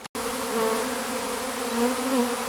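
Honeybee swarm lifting off into flight, a dense, steady buzzing drone that stays loud and close throughout after a brief silent gap at the start.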